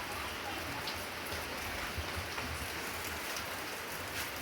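Steady rain comes down during several days of rain, a continuous hiss of drops striking surfaces with a few slightly louder splashes, moderate in level and with no one talking.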